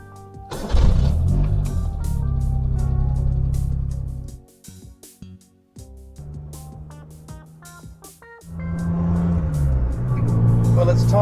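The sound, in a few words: 80s Suzuki Mighty Boy 800cc car engine driving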